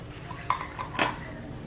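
A utensil clinks against a bowl a few times in quick succession while mixing bread pudding ingredients including powdered sugar, sharp light taps close up, with quiet background between.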